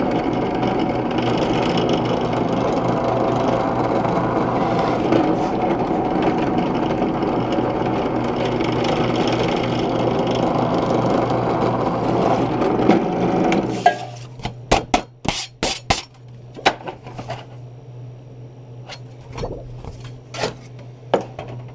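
A power drill bores holes with a steady, loud motor drone lasting about fourteen seconds, followed by scattered knocks and clatter as work pieces are handled.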